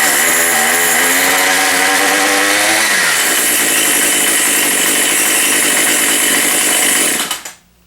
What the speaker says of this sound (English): Now when I let off the throttle, the head actually stops turning, so the clutch is doing what it's supposed to now.